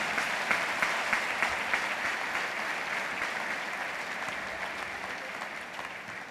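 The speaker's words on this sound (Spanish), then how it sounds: "Y les damos un aplauso para que se animen." Congregation at a church service clapping together, a dense, even round of hand claps that carries on steadily and fades slightly toward the end.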